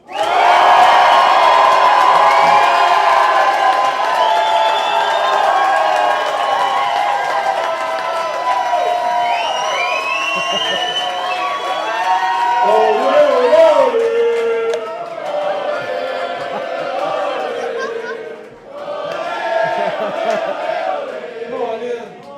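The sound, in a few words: audience shouting and screaming as loud as possible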